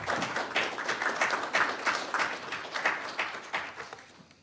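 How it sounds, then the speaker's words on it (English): Applause from a symposium audience in a lecture hall, a moderate crowd clapping with distinct, slightly uneven claps that taper off toward the end. "Let's give them all a round of applause."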